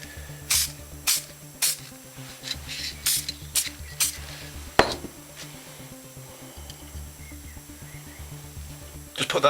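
Lacquer sprays in short, repeated hissing bursts onto a drum wing bolt, close and fairly loud, over a low steady background hum.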